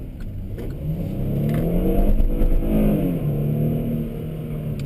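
A 2020 Kia Sedona LX minivan engine revs up and accelerates, a steady rising whir heard from inside the vehicle, moderately loud with no talking.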